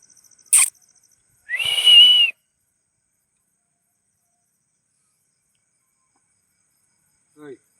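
A person gives one short, clear whistle to call an animal in a village, preceded by a brief click and followed by near silence.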